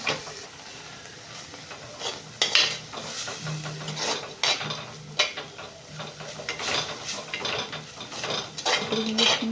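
Spinach being stirred and sautéed in a pan, with scraping utensil strokes and clinks against the metal over a soft sizzle, coming in irregular bursts.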